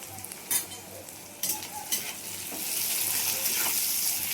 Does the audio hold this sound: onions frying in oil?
yes